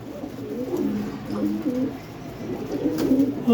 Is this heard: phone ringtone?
no